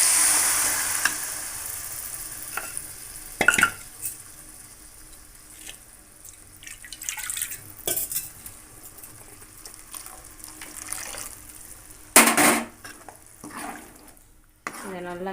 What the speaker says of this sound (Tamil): கொஞ்சம் மஞ்சள் தூள் சேர்த்துட்டு நல்லா கிளறி விட்டுடலாம்